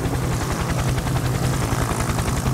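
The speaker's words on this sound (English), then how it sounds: "I'm still on my helicopter." A helicopter in the video game Happy Wheels makes a steady, rapid rotor chop over a low engine drone, continuous and close with no voices over it.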